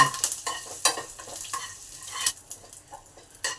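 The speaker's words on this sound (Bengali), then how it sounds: "কিছুটা জিরে দিলাম, সামান্য পরিমাণ কালো সর্ষে দিলাম আর তার সঙ্গে কারি পাতাটা দিয়ে দিলাম।" Cumin, black mustard seeds and curry leaves fry in hot oil for a tempering, with a steady sizzle broken by repeated scraping stirs and spattering pops close by, no talking.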